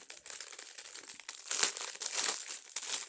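Steady, close-up crinkling and rustling of plastic wrapping from a Shein clothing order, growing a little louder partway through, with no voices.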